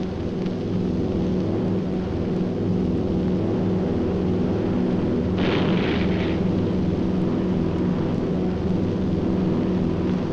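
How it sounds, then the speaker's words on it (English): A flak barrage explodes around a World War II bomber, the Memphis Belle: a heavy, steady engine drone throughout, broken by a sharp, rough burst about halfway through that fades back into the drone. "the enemy knows the path of your approach and walls that path with a flak barrage"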